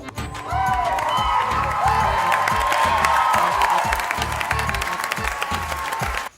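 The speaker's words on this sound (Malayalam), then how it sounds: "എല്ലാരും കൈയടിച്ചോ" Audience applause and cheering at a stage event where a performer has just been dressed up, steady dense clapping with whoops and shouts, close and loud from start to a sudden stop.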